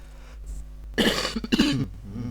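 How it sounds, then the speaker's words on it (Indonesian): Two harsh coughs in quick succession, close and loud, over a low steady hum. "Batuk."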